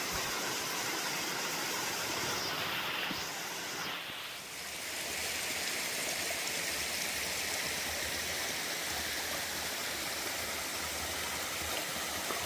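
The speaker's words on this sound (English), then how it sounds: "Little flowing water for you." A small mountain stream flows steadily along the Appalachian Trail near Hogback Ridge, its broad, continuous rushing and trickling close and unbroken, with a brief dip in intensity partway through and no voices.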